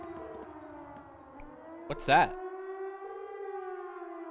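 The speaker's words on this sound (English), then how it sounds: "Sounds like a siren." A siren wails from a fort in the video game Trails of Cold Steel, a steady tonal drone that swells into a brief louder burst midway, with a short spoken question heard over it.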